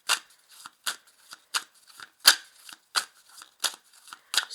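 Oracle cards for a tarot reading are shuffled by hand in a quick, regular series of crisp riffling snaps and flicks, close and fairly soft, with no talking.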